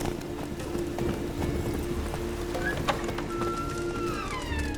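Roach the horse's hooves clip-clop in a steady rhythm through a village in The Witcher 3, moderately close, over a constant game ambience with brief high bird-like chirps and no talk.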